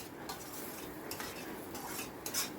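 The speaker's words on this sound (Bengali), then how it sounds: "মশলাটাকে অনবরত নেড়ে নেড়ে কষিয়ে নিচ্ছি" A spatula scrapes and stirs masala in a pan during an okra dish, with soft repeated metallic scrapes and light sizzling, quiet and close.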